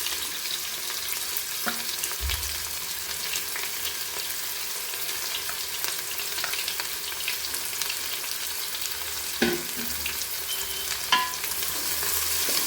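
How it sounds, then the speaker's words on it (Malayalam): Sliced onions for chicken biryani sautéing in a pan produce a steady close hiss and sizzle, with occasional soft stirring scrapes and clinks and no speech. "നമുക്ക് ഈ സവാള ഇതിനകത്തോട്ട് ചേർത്ത് കൊടുക്കാം"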